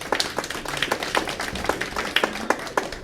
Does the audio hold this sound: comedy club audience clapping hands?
yes